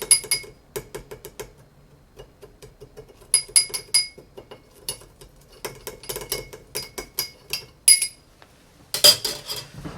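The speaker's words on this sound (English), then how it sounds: "So let's stir a bit this brown sugar." A bar spoon stirs brown sugar in a glass for an Old Fashioned, producing rapid, bright clinking taps in rhythmic bursts, close and clear with no talking.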